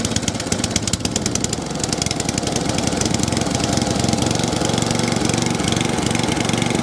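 A cylinder lawn mower engine with a Dell'Orto carburettor runs loud and close with a steady, rapid firing rhythm and a faint, slight miss or hunt, and no voices.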